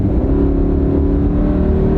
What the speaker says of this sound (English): as you see here, we're going 40, we'll floor it